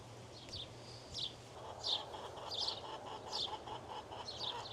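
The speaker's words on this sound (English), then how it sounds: "If you can hear that hen that just went" A hen clucks in short repeated bursts outdoors on a windy day, faint and somewhat distant over a low steady hum, with chicks nearby and no one speaking.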